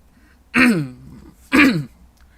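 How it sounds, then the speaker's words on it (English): Two short, throaty clearing sounds spaced about a second apart, close and fairly loud against a quiet background. "Sorry, I had to clear my throat."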